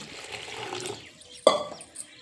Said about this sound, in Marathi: मी तर एवढ्या मटकीमध्ये मी साधारण दोन ग्लास पाणी ओतते